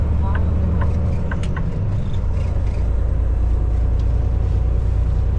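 A truck approaches on the road, a steady loud low engine rumble and road noise heard from inside a moving truck, with a few brief clicks over the top.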